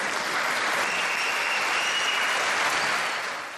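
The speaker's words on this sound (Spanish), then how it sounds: "Un caluroso aplauso a ustedes por estar presentes aquí." An education congress audience applauds in a dense, even burst of many hands clapping at once, holding steady for a few seconds before tapering off at the end.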